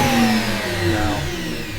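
A Makita 18V cordless planer winds down freely with no brake, its steady motor whine and hum slowly fading over a couple of seconds, close and fairly loud with no talking.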